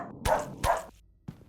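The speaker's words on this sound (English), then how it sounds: "you can attract enemies with your barks now" A dog barking in the fan-made video game remake Silent Hill: The Escape, two sharp close barks in quick succession followed by a fainter third after a pause.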